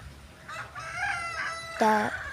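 A farmyard rooster crows loudly and near, alongside short clucking calls from chickens, all in quick succession over faint background noise.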